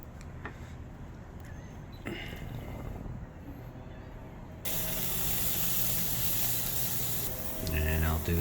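Steak sizzling on a BergHoff tabletop charcoal BBQ, a sudden loud steady hiss that starts midway, following quieter outdoor background noise, with brief clattering near the end.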